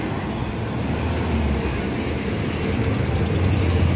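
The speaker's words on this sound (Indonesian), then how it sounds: "Ini ada bus 153 ALS menuju Medan." An ALS intercity bus bound for Medan drives past on the road, a brief steady roar of engine and tyre noise, fairly close and loud.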